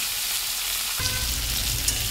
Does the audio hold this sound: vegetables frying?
yes